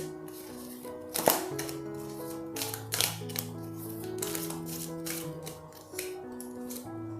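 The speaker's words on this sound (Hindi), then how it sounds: "one more card I will take out for you" Tarot cards drawn from a deck during a reading, giving a few sharp close snaps and slides over faint background tones, with no speech.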